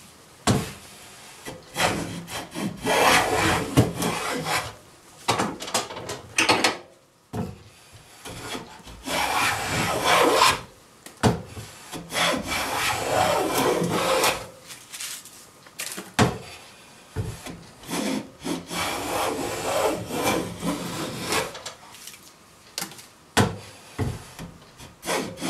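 A No. 7 hand plane takes rough shavings off an ash board, each long rasping stroke shearing wood in a steady series of passes with short pauses between, close and fairly loud with no talk.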